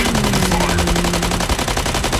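Mech gunfire in the game Mech Arena hammers out as rapid, evenly spaced automatic shots in a dense, loud stream, with a sustained whining tone running underneath.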